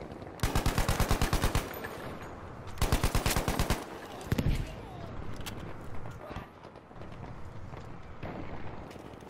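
Gunfire in the World War II shooter Battlefield 5 Breakthrough mode, two loud rapid automatic bursts followed by scattered shots and explosion-like rumbles, with someone talking over the later part.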